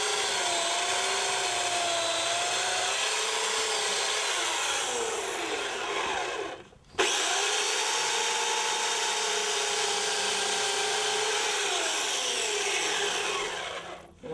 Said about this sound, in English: I'm kind of doing what's called a plunge cut